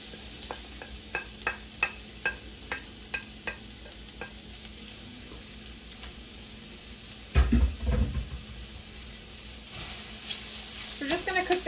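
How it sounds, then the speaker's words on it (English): Shallot and white onion sautéing with golden-browned mushrooms in a pan for a wild rice risotto, a steady soft sizzle under rhythmic spoon stirring and scraping taps, with a louder clatter of pan handling near the end. "So we're gonna go ahead and add in both our shallot and our white onion."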